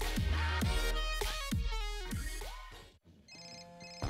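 A mobile phone ringtone plays in a TV chewing-gum advert, a bright repeating electronic melody of several quick tones, loud and alone, with a short gap before the tune resumes.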